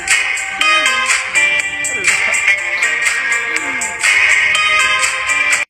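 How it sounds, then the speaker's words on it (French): A middle-school bell ringtone plays loudly as a bright, repeating electronic melody with tonal phrases restarting in a steady pattern across the whole stretch, with no voices. "je note les sonneries du collège, version premium"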